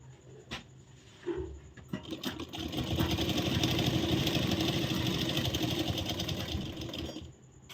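Blouse fabric runs through a sewing machine as it starts with a few clicks, then hums in a steady close run of several seconds before stopping.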